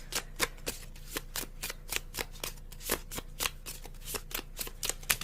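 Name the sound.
tarot cards being shuffled and drawn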